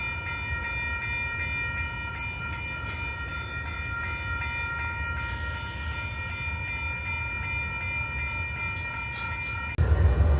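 A train rumbles steadily and low with faint high tonal lines overhead, and a louder burst of low rumble comes near the end.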